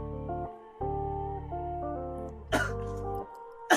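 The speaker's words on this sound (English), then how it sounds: "I have to cough" A single short cough bursts out during a radio chat show, set against a steady sustained musical background.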